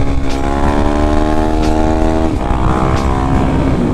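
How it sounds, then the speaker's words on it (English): A Suzuki DR-Z dirt bike revs hard and holds a steady, buzzing engine note while being ridden in wheelies, loud and close, with brief dips where the throttle eases off. "These are kind of like my first wheelies"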